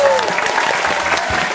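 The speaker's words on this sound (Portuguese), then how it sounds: "Salva de palmas pra Bia" A short round of clapping from a small group of people welcoming a contestant, dense and fairly loud, lasting under two seconds.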